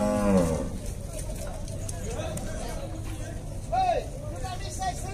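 A cow moos loudly at the start, then more moos sound farther off amid the chatter and bustle of a busy cattle market in Dois Riachos, Alagoas, Brazil, with people talking throughout.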